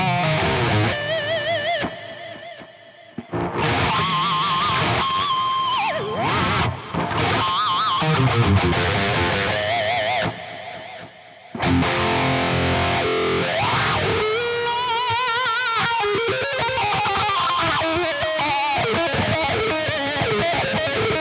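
Electric guitar played through a Neural DSP Quad Cortex in a live setting, heavily distorted with modulation and lush delay; loud sustained riffs and soaring lead lines fill the whole span, with a couple of brief breaks.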